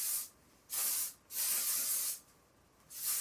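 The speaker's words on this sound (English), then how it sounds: "And I'm just going to spray this all over." Heat protectant hairspray comes out in four close, distinct bursts of aerosol hiss onto hair, each lasting about half a second to a second, with short quiet gaps between them.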